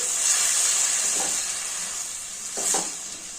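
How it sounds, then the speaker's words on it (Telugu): Finely chopped tomatoes sizzle in a hot pan of partly cooked mixed vegetables for curry, a steady close frying hiss with two brief bursts of stirring. "ఇప్పుడు టమాటో వేసి సన్నగా తరిగి టమాటో వేసుకోవాలండి."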